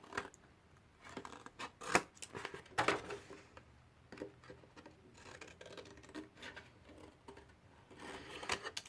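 Scissors snip through the corner of a piece of cardboard being trimmed for a homemade phone or tablet stand, a series of close, crisp cuts in a quiet room with no talking.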